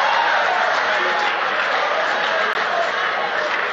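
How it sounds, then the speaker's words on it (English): An audience at the 2018 Nigerian vice presidential debate cheers and applauds in a loud, sustained wash of clapping and crowd noise that fills the whole stretch, with no clear voice above it. "You are not allowed to cheer in the audience"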